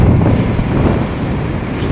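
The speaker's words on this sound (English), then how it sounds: "Super windy." Strong wind roars steadily against the microphone, a dense low rumble with no pauses, loud and continuous throughout.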